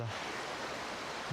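Sopotnica waterfalls near Prijepolje, Serbia, give a steady, even rushing roar of falling water, broad and continuous with no voices.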